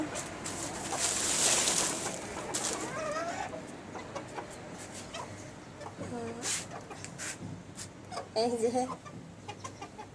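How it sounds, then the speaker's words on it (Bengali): Chickens, a hen with chicks, cluck in short bursts at a rooftop coop, with a few clear calls standing out over steady outdoor background noise; a person talks between them. "এই যে ওটা হচ্ছে মুরগি আর ওটা হচ্ছে মুরগি"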